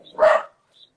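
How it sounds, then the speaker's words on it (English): A single short dog bark, sharp and fairly close, over a quiet background and followed by a faint high squeak. "Sounds like you got a dog on your end."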